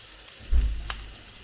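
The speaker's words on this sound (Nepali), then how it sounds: "जस्ट अब हिट पनि अलिकति मिडियम गरिदिउँ अलिक अब मिडियम गरिदिउँ प्याज मजाले पाक्नु पर्यो" Onions frying in a pan over medium heat, a soft sizzle with a brief louder surge of stirring or crackle midway, close and alone without speech.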